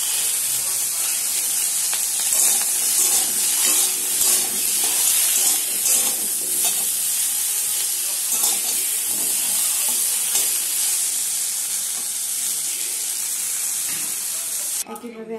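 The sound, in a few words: snake gourd frying in oil in a wok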